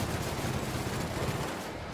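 A dense, continuous burst of machine gun fire in The Outer Worlds, loud and rapid without pause, tapering slightly toward the end.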